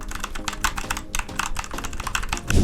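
Steady fast typing on a VOOKA Trol mini RGB mechanical keyboard with red switches, close and loud, a dense stream of clacking keystrokes with a heavier thump at the end.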